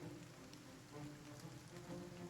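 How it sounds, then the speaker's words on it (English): Soft, steady rainfall in the video game Battle Brothers, a faint continuous patter with a low background hum and no voices. "It is raining."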